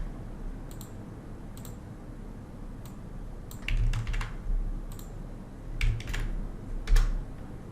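Someone types a subreddit name on a computer keyboard in quiet, irregular bursts of keystroke clicks, a few isolated taps and then quicker clusters, close by and without talk.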